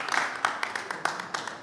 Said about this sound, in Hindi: फ्रॉम मधेपुरा, जोरदार तालियों के बीच।